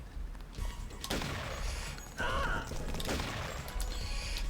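Gunfire in the Deus Ex video game, several sharp bursts of shots with mechanical clatter and a ringing impact, spaced irregularly over a steady game background.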